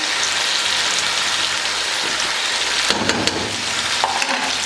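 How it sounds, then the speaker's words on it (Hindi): Ground spices with chili powder, salt and coriander powder sizzle and fry steadily in a pan for chicken korma, a continuous close crackle with occasional stirring scrapes. "अब इसको अच्छे से 1 से 2 मिनट के लिए भून लेंगे।"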